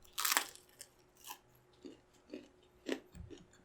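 Crunchy Korean food chewed up close, with a loud opening crunch followed by several short, separate bites and chews spaced about half a second apart.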